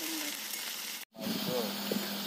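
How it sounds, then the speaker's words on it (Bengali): Meat dropped into hot oil over fried onions in a pan, a steady bright sizzle and hiss with a few stirring scrapes, close and continuous. "পেঁয়াজ ভাজার পরে এখন মাংসটা দেওয়া হচ্ছে।"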